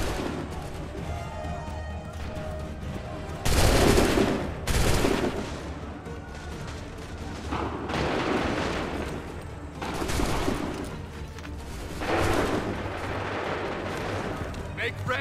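Musket volleys crackle as massed gunfire in the Assassin's Creed III video game, several loud bursts spaced a few seconds apart over a continuous battlefield rumble, with shouted commands between them.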